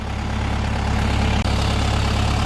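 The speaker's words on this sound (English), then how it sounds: "I'm gonna reset that while I'm sitting here waiting for it to finish warming up and make sure it's up to full temp" A Kubota tractor engine idling while warming up, a loud steady low diesel throb with an even pulsing rhythm and one brief dip, close and alone.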